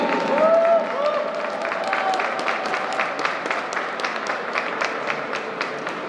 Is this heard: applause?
yes